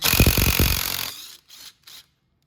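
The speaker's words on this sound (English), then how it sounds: "So just put your impact gun on, and" A small impact gun hammers on a 21 mm variator bolt of a Venom x22GT 250cc automatic motorcycle: a loud, rapid rattling burst for about a second, followed by two brief, fainter bursts, then silence.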